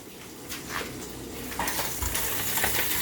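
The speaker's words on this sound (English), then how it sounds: "Now let's go check on the bacon real quick." Bacon frying in a pan on a home stove, a steady sizzle under clattering pots, utensils and stirring, with sharper clinks now and then and no talk.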